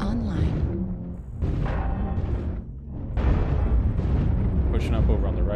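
Artillery strike explosions in MechWarrior Online, a string of heavy rumbling blasts surging and fading over a few seconds, with someone talking over them.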